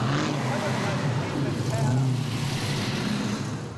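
Engines rumble loudly and steadily as cars cruise in a stream down Northbourne Avenue at Summernats, with several motors overlapping nearby and a voice speaking over them.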